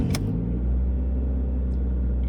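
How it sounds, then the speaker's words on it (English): A Honda Accord engine with the check engine light on starts up with a brief crank burst, then settles into a steady, close, low idle rumble with no talking. "I'm gonna start the car."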